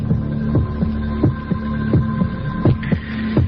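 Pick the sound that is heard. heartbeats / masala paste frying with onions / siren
heartbeats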